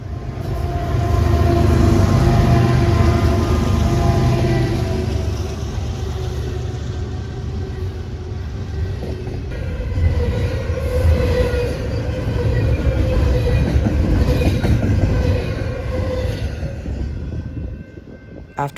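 BNSF freight train with a CSX locomotive and mid-train DPUs accelerating away, a loud sustained diesel roar and rumble with horn-like tonal lines, easing slightly as it pulls out.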